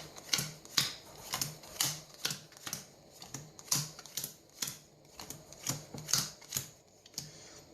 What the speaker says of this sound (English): you ask them to deal the cards out into 4 equal stacks, just like that, until they run out of cards.